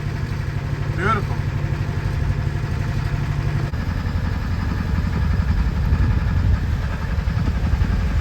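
A sailboat motors under engine power against a strong current, its steady low engine drone and clatter running continuously throughout at close range.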